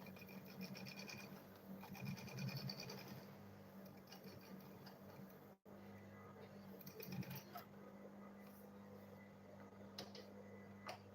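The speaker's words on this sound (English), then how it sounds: "Then I'll go ahead and sew it now." A sewing machine stitching a foam lunch bag runs in steady mechanical bursts with a rapid needle chatter and a low motor hum, close by, pausing briefly midway before resuming.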